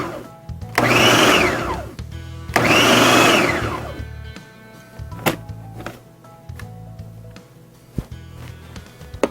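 A blender pulses dehydrated onions into minced pieces in two short whirring bursts, each rising and falling, followed by clicks, thumps and rattles of the jar being handled.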